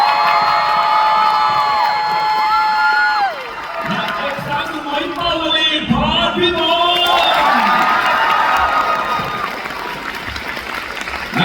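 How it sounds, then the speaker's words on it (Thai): An audience at a stage event in Suphanburi applauds and cheers loudly for lead actress Kan Naphat, with sustained clapping, scattered shouts and whoops, and music and voices running underneath. "ต้องขอเสียงปรบมือนะครับ ให้กับนักแสดงนำของเรา"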